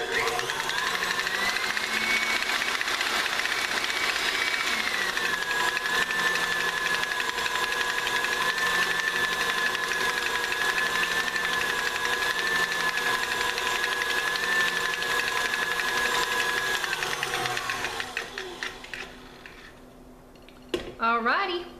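An electric mixer beats keto cinnamon roll dough in a bowl with a loud, continuous motor whine and rattle that stays steady for most of the stretch, then slows and cuts off, followed by a few clanks.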